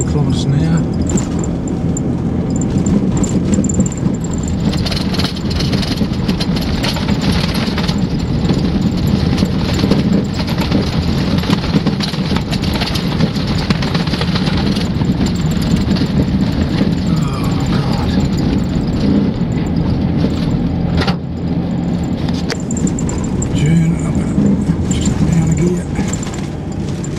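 A Toyota Hilux in 4th gear at about 40 km/h on the remote Sandy Blight Track, its steady engine drone and road rumble continuous and loud throughout, with talk over it.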